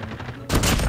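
Sniper rifle fire in the Call of Duty video game: a sudden loud, close shot bursts in after a quieter stretch and rings on briefly.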